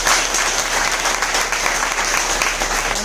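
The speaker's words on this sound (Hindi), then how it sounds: "उनके लिए एक जोरदार तालियां चाहिए" Loud, sustained applause from an audience at a motivational talk, dense even clapping filling the whole moment without pause.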